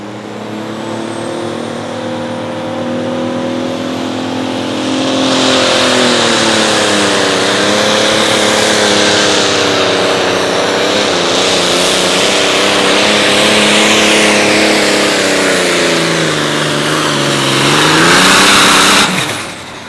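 A powerful pulling-tractor engine at a light limited pro stock tractor pull in Wisner, Nebraska roars loudly and continuously, its pitch rising and falling as it strains under load, then surging to a peak before cutting off.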